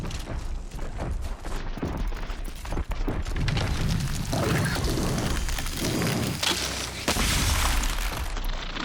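In Horizon Zero Dawn, an ice cannon blasts a frozen Scorcher machine, giving a crackling, shattering burst of icy debris over busy game noise, with the crunching rattle going on throughout.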